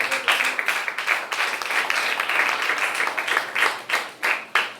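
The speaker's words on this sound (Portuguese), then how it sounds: "As palmas cultuam a Jesus." Congregation clapping during a church service, a sustained round of many hands with a few sharp, distinct claps standing out near the end, fairly close and with no voices over it.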